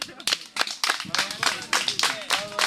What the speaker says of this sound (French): Applaudissez pour lui.